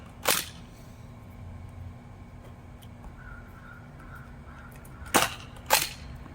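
A modified, worn Nerf shotgun blaster fires dart volleys: one sharp pop near the start, then two more quick pops close together near the end, with quiet handling noise between.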